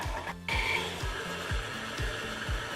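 An electric mixer whirring through brown and white sugar for cookie dough, a steady motor hum with a regular pulsing rhythm, fairly quiet and close.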